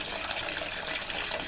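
Liquid fertilizer poured onto soil around a tree in a home yard, a steady splashing gush of liquid throughout, close and moderately loud.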